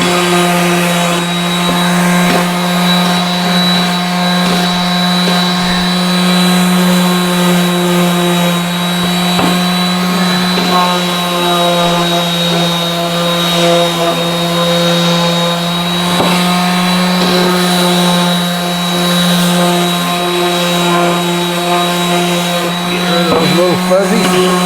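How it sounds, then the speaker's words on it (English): A sanding disc works the edge of a wooden plaque, giving a steady, loud, continuous motor whine with a strong tonal hum that holds for the whole stretch, with faint scraping contact changes near the end. "Take this sanding disc to this edge to kind of break it a little bit."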